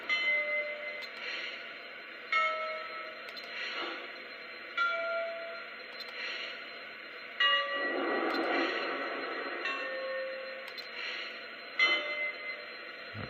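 Lionel Legacy Pennsylvania B6sb O-gauge model steam switcher locomotive sounding its bell, a clear steady series of ringing strikes repeated roughly every one to two seconds, close and moderately loud over a faint mechanical hum.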